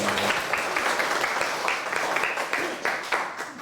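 Audience applause after a Buddhist talk on karma at Borobudur, a steady wash of many hands clapping close by, fading slightly toward the end.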